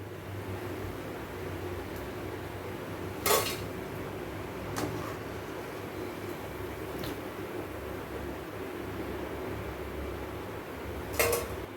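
Fried chicken curry bondas are lifted out of hot oil, with a few sharp metallic clinks of a utensil against the pan over a quiet steady background hiss.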